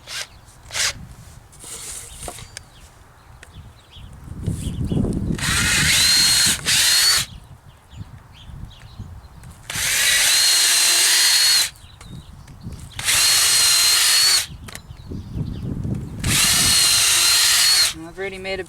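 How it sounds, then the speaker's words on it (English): A power drill whines in repeated bursts of a second or two, loud and close, separated by quieter handling noises and occasional talk. "drill the holes"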